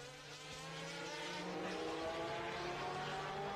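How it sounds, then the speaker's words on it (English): Jaguar and Porsche race cars at the 1988 Le Mans 24 Hours, a steady loud engine roar with a rising tone as the cars pass close by, continuous throughout with no talk. "Number 3 Jaguar, savagely attacking number 18 Porsche."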